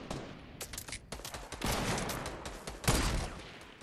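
Fortnite video game gunfire: dense, rapid volleys of shots crackling in overlapping bursts, with heavier blasts building toward the end.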